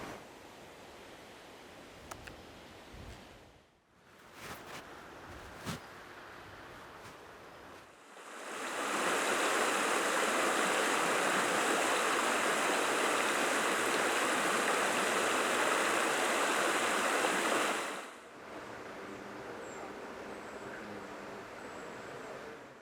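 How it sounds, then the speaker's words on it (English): The River Frome flows near Freshford on a late spring day, a dense rushing wash of water heard close by. It sits low at first, swells to a loud steady roar in the middle, then drops back with no voices. "It's beautiful being by the banks of the River Frome here"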